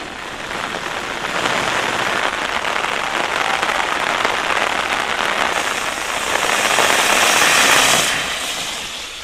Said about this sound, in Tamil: ராமேஸ்வரம், பாம்பன் உள்ளிட்ட பகுதிகளில் தொடர்ந்து கனமழை பெய்ததால் சாலைகளில் நீர் பெருக்கெடுத்து ஓடியது.